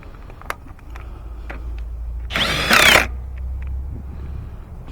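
A power tool briefly buzzes while snugging engine mount bolts on a Toyota Corolla, one short burst of about half a second rising over quiet garage background with scattered small clicks.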